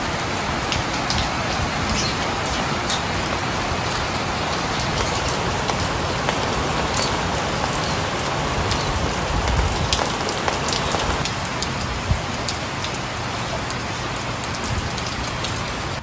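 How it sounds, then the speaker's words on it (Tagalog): Heavy rain pours down steadily, a dense, loud, unbroken hiss of drops hammering a surface. "Grabe, lakas naman ng ulan ngayon."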